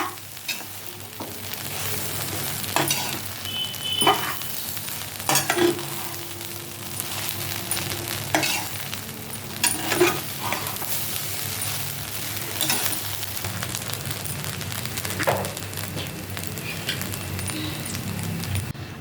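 Egg fried rice sizzles steadily in a hot pan while a spatula stirs and scrapes, with occasional metallic clinks of utensil on pan, close and continuous with no talk.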